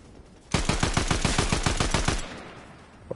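Rapid bursts of video game gunfire from snipers, a fast string of about a dozen loud cracking shots packed together over a couple of seconds, then tailing off.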